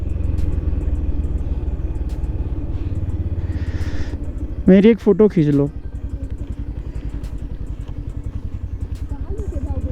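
Motorcycle engine idling steadily on Namkeela Pass on a Ladakh ride between Kargil and Leh, a low continuous rumble throughout while people talk over it.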